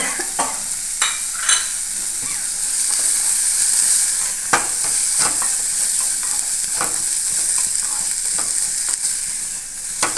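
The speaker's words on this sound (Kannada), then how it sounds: "ಇನ್ನೊಂದು ಸ್ವಲ್ಪ ಎಣ್ಣೆಗೆ ಫ್ರೈ ಮಾಡೋಣ್ರಿ ಮಾವಿನಕಾಯಿ ಹಾಕೊಂಡ್ರಿ" Chopped raw mango sizzles steadily in a little hot oil as it is stirred in a pan, a close, continuous crackle with occasional scraping clinks and no talking.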